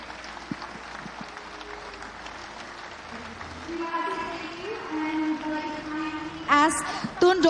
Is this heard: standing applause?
yes